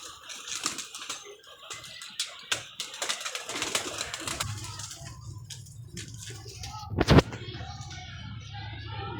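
Pigeons kept by a pigeon fancier coo softly and repeatedly, with rustling, fluttering and clattering around them and a loud thump near the end.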